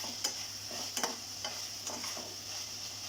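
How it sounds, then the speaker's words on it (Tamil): Onion and tomato sauté with bay leaf in a pan for chicken kurma. A soft, steady sizzle runs under a few light stirring clicks from a spoon, quiet and close, with no voices. "வெங்காய தக்காளி நல்லா வதங்கிட்டு இருக்கு."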